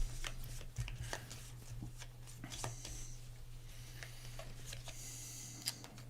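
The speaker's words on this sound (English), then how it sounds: "And you take your setup cards, also face down, and shuffle those about." Face-down setup cards for the Final Girl board game are shuffled on a table, producing quiet, irregular papery slides and taps against a low steady hum.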